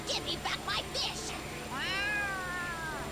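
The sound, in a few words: cat meowing in video game Yakuza: Like A Dragon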